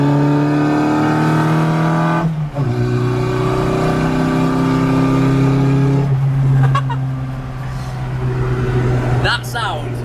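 A Mk1 Mini Cooper S engine revs hard and accelerates on a ring road, its steady harmonic drone climbing and shifting pitch in loud, close pulls, with people talking over it.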